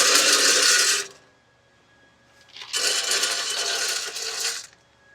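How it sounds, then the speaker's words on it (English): Wood pellets pour into the hopper of a Traeger Trailhead wood pellet grill in two rushing, rattling bursts, about one and two seconds long, close and fairly loud, with a brief quiet gap between them. "add some pellets to the hopper."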